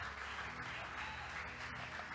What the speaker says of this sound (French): Car il mérite nos acclamations.